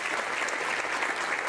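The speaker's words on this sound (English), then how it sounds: "Big round of applause." A breakfast gathering claps steadily as an award recipient from a barbecue festival comes forward, a full, even roomful of applause holding at the same level throughout.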